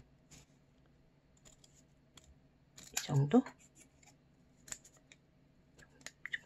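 Scissors cut through a folded sheet of paper during a card-decoration origami craft, a short crisp snipping burst in the middle with a few faint clicks afterward, close by, with a voice speaking briefly.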